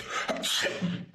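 A single sneeze bursts out in a room during casual conversation, a sharp noisy blast followed by a brief breathy tail, fairly close and loud.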